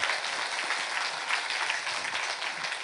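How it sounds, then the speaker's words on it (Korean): Congregation applause during a Friday worship service in a church, short steady clapping from many hands with no talk over it. "우리 하나님께 박수를 영광 돌리겠습니다."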